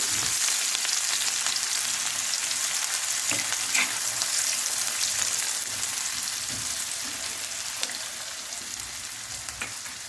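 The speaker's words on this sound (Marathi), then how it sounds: "तेल छान गरम झालेलं आहे तर मी याच्यामध्ये टाकून घेते दोन छोट्या साईजचे कांदे मी कट करून घेतलेले ते टाकून घेते कांद्याला आपण मस्त फ्राय करून घेऊ" Chopped small onions frying in hot oil on a tawa while making street-style egg masala, a steady, close broadband sizzle with a few faint stirring clicks, fading slightly toward the end; no voices.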